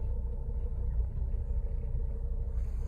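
A 2012 Volvo V50 2.0 D3 diesel with an Aisin automatic gearbox rolls in reverse, a steady low engine rumble and drivetrain hum heard from inside, smooth and even with no jolts.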